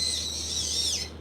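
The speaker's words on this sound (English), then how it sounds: "what kind of bird is that?" A bird near a shrine in Akihabara gives a single high, thin whistled call that holds and then slides downward, close and fairly clear over a faint low hum.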